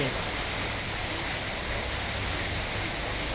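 Steady rain pours down on a makeshift roof at a Thai worksite, a dense, even hiss that stays loud and unbroken throughout with no voices.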